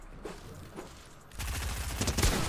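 Gunfire in the video game Fortnite: a soft, sparse start, then a sudden dense burst of rapid shots that roars on continuously and loudly to the end.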